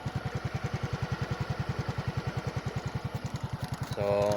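A motorcycle engine idles nearby in a steady, rapid chugging pulse, loud and even throughout, with a brief higher tonal rise near the end.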